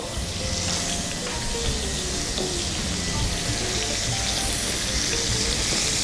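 Onions fry in a pan while a blue cheese avocado burger is cooked, giving a dense, even crackling sizzle that holds steady throughout, close and fairly loud with no talk.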